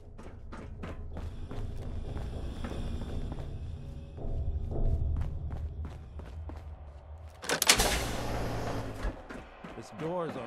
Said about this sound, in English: This door's on the fritz.